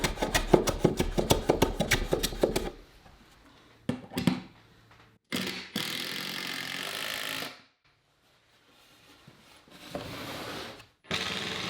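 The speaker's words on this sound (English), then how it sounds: "And I'll use my hand plane to soften the edge up a little more." A hand plane shaves along the edge of a wooden board in a workshop, making a few separate rasping, hissing strokes between pauses, preceded by a stretch of rapid buzzing tool noise.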